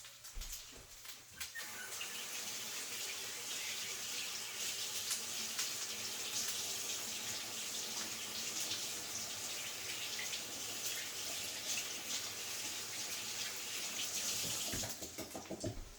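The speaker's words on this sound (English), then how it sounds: "Wash my hands so I can get that out and stuff." Hands are washed under a running kitchen tap while cooking, a steady, close rush of water that flows continuously, with faint birdsong in the background.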